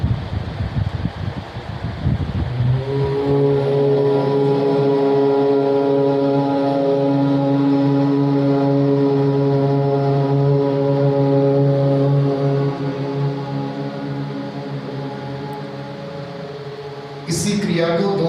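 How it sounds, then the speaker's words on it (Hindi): A group at a yoga seminar in a press club chants a long, sustained Om together on the exhale, a steady droning chorus of many voices holding the tone for about fifteen seconds before it fades. "धीरे से गहरा श्वास भरिए,"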